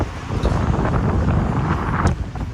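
Wind blows near a lift bridge, a steady loud rush buffeting the microphone with a brief gust near the end and no talk.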